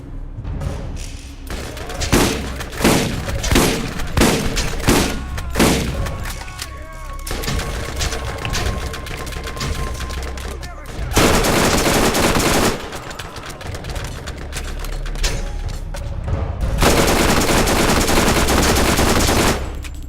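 Borderlands combat with a Dahl-allegiance character in a canyon battle: rapid close gunfire bursts and heavy thuds pound on continuously, with dense automatic volleys swelling loudly in the middle and near the end.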